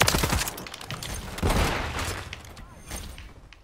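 Rapid bursts of automatic gunfire in an online Call of Duty Modern Warfare 3 match, loud and close, with sharp cracks clustered at the start, a heavier burst midway and scattered shots tailing off.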